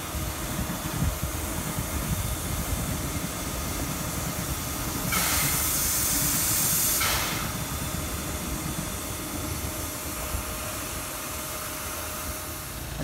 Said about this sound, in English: We have steam locomotive 3016, which will be staying here tonight